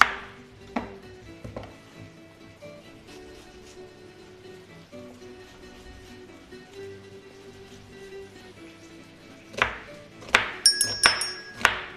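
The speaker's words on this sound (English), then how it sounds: "In the meantime, we start chopping the onions." Onions chopped with a knife on a cutting board in a home kitchen, a steady series of soft, close taps with a few louder knocks and bright clinks near the end, no talking.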